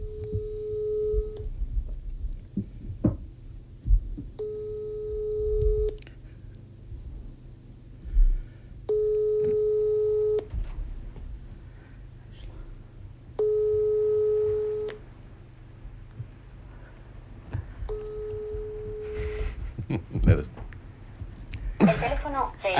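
Unanswered telephone call ringing repeatedly, five evenly spaced ring bursts of a steady tone with pauses between them, over low background hum and scattered noises.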